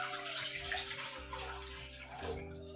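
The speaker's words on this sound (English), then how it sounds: "Add 500 ml of water." Water is added to a cooking pot for ugali in a Kenyan home kitchen, giving a steady, continuous pour with a slight rising tone that shifts near the end. It is heard alone, fairly close.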